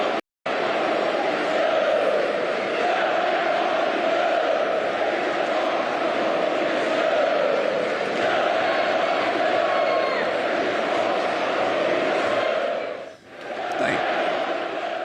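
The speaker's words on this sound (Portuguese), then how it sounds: "a gente pode ouvir o intervalo quando a torcida canta e vaia" Palmeiras football fans at Allianz Parque, chanting and booing in a steady, massive roar from a full stadium crowd, continuous and loud with a brief dip near the end.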